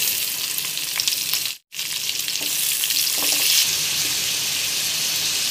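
Tomatoes hit frying onions in a pan, and a loud, dense sizzle carries on with a few scrapes. A short silent gap breaks it early, and the hiss swells slightly afterward.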